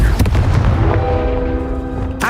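In Hogwarts Legacy, the Confringo fire spell goes off as a loud, dense burst of explosive crackling and booms, then a ringing tonal tail that fades before a final sharp hit.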